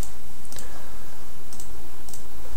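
A few sharp computer mouse clicks sound against a steady background hiss, spaced about half a second to a second apart, close and crisp, with no talking.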